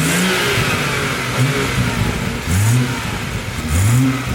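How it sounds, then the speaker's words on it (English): A BMW M140i with its stock airbox revs repeatedly, the engine note climbing and falling in loud bursts over a continuous rumble, with no talking. "we're going to get some revving clips of the stock airbox"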